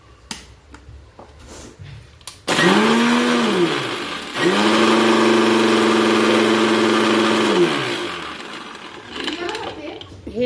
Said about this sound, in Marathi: कोथिंबीर आपण स्वच्छ अशी धुवून घेणार आहोत आणि आता हे मी बारीक वाटून घेणार आहे।